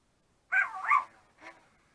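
A 2005 Hasbro FurReal Friends Scamps My Loving Pup robot toy dog gives a single electronic two-part bark followed by a short softer yip, close and alone.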